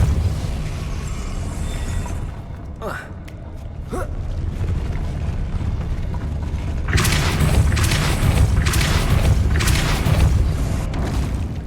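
Depulso force spell blasts in Hogwarts Legacy over a continuous rumbling game background, with a couple of sharp swishing hits early on and a heavier, sustained booming surge in the latter half.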